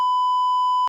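A single steady censor beep, a pure electronic tone held for nearly a second, loud and alone with abrupt start and stop.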